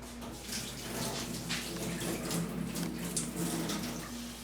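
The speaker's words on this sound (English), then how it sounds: "I'm going to go ahead and strain this off really quickly" Mozzarella curd being strained at a kitchen sink, a steady rush of pouring and splashing water lasting several seconds, close and fairly even, with no talking.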